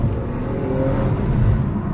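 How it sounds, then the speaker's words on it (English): MG ZT 190 V6 car engine revving steadily and fairly loud from inside the cabin, a continuous low rumble swelling slightly toward the end, with no voices. "That engine just revs."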